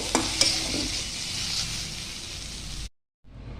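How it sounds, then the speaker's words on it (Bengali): Eggplant pieces shallow-frying in hot oil in a kadai give a steady close sizzle with a couple of sharp spatter pops near the start. The sound cuts to brief silence near the end, then the sizzle returns. "এরপর আমি বেগুনগুলোকে একটু হালকা করে ভেজে নামিয়ে নেব।"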